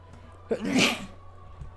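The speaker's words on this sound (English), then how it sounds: "I feel a sneeze coming on." A single close sneeze, a quick sharp intake followed by a breathy burst, against a quiet background.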